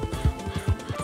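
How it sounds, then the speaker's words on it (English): Horse hooves clip-clop at a steady walking rhythm while riding in Red Dead Redemption 2, a series of evenly spaced, soft thuds close by with no voices over them. "you're going to be riding this horse for a good bit"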